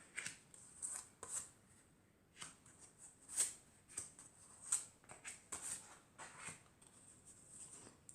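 Tarot cards handled and set down one by one for a reading, giving a run of crisp, close slaps and brushes spaced every second or so, quiet and alone.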